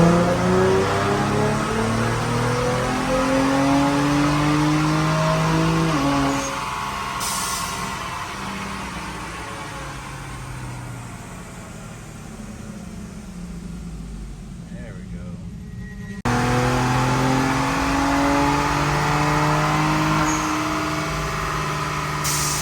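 A 2025 Ford Explorer ST with a performance tune revs on a dyno, heard from inside the cabin as a loud sustained engine drone that drops back, then surges again, with a voice briefly over it.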